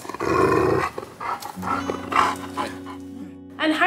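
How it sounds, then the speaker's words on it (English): A wolfdog at a Texas sanctuary growls as a happy noise, with low rumbling vocalizations and short whiny yips, close and moderately loud, mixed with a person talking. "such as Domino, who uses growl as his happy noise."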